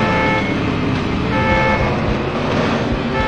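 A car horn honks in the NASCAR Rumble racing video game, a loud sustained tonal blare over a dense, steady engine and road roar.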